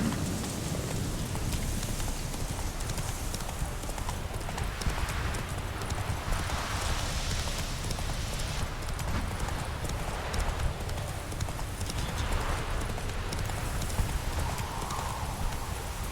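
Hooves of Roach, the horse in The Witcher 3, clip-clopping at a steady trotting rhythm, close and continuous, with rain-like ambient hiss underneath and no clear talk.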